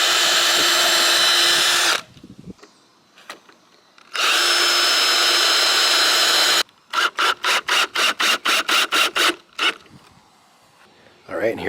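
A power drill driving screws into a reclaimed wood crate, with two long sustained whirring bursts followed by a rapid series of short stuttering pulses, close and loud, with quiet gaps between.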